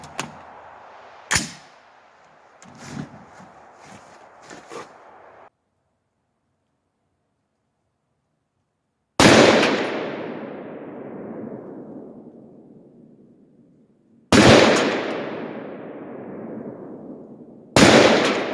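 An AR-10 rifle chambered in .308 with a Sharp Bros Badlands muzzle brake fires loud, sharp shots outdoors, each followed by a long rolling echo. Smaller clanks and rattles come first, then a silence, then three widely spaced blasts.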